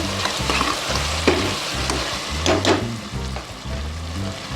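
Tomatoes sautéing in a pan while being stirred, with steady sizzling and frying alongside intermittent scraping stirs of a spoon, close up.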